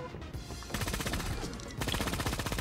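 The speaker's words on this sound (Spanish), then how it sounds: "Ve, que nos disparan." Rapid automatic gunfire in the video game Creative Destruction, two dense bursts of close, sharp shots separated by a short gap, fairly loud with no talk over it.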